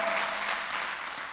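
A church congregation claps in a dense, steady burst of applause that fills the whole brief moment, fairly distant and even, with no voice above it.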